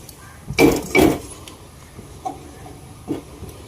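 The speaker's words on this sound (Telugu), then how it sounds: "ఇప్పుడు మనం స్టవ్ వెలిగించుకొని మూకిడి పెట్టేసుకుందాం" A gas stove is lit and a frying pan is set on it to fry suji rings: two loud metallic clanks in quick succession, then a few fainter knocks over a low room hiss.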